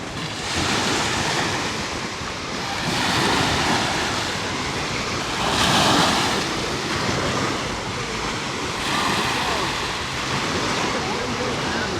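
Ocean waves wash steadily onto a very wide sandy beach at Rimini, Italy, with broad surges of surf rising and falling every few seconds under constant wind noise.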